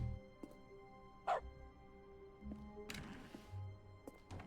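Cartoonish dog barks stand in for button clicks in the dog mode of The Stanley Parable: Ultra Deluxe, a few short yips popping up over a low game background hum with no talk.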